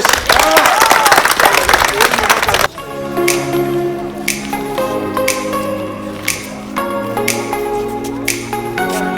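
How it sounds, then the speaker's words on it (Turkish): A group claps for Çağatay during a village toy giveaway in Erzincan, a short burst of dense applause that breaks off after a few seconds, followed by scattered sharp taps and knocks under a steady background. "Çağatay'a bir alkış"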